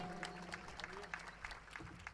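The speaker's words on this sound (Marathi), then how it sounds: "एकदा जोरदार टाळ्या झाल्या पाहिजेत" Audience applause at a Chhatrapati Shivaji Maharaj shivgarjana event, a dense steady wash of clapping lasting the whole moment, fairly even in loudness with a few sharper peaks and some crowd noise underneath.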